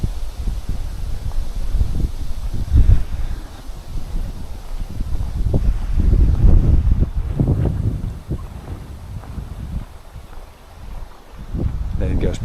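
Gusty wind buffets the microphone while cycling toward a lake on a windy day, a loud low rumble that swells and fades in waves throughout, with a voice speaking intermittently over it.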